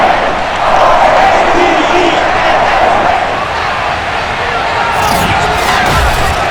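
A Baltimore stadium crowd in Madden NFL 22 roars in a constant loud wash of cheering, broadcast commentary heard over it.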